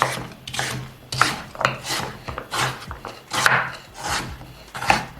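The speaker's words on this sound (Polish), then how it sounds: "Kroję sobie taką dynię, bardzo taką drobną kostkę" A knife cuts pumpkin into small cubes on a wooden board in a home kitchen, each stroke landing as a dull chop or scrape at an uneven, unhurried pace, close and fairly loud.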